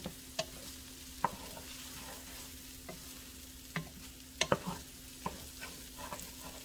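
Rice with onion and celery being stirred in a pan for shrimp and sausage jambalaya, with scattered spoon scrapes and clacks over a faint steady sizzle, nearby and with no talking.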